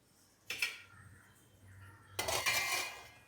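Kosha alu'r dom, a thick potato gravy, stirred in a pan: two close, quiet bursts of utensil scraping and clinking against cookware with a soft simmer between, no talk.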